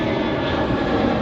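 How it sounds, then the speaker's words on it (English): An airplane engine from passing air traffic roars overhead as a steady, dense broadband drone, loud and continuous throughout the short stretch with no voices. "I do apologize for the air traffic"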